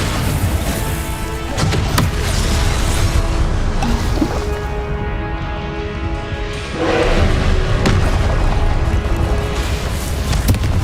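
Confringo explosion spells going off in Hogwarts Legacy combat, repeated sharp blasts and crashes over a busy, constant layer of battle noise, with several distinct hits spread across the stretch.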